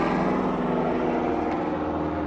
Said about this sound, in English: I think it's a helicopter race. I think a helicopter race is going on.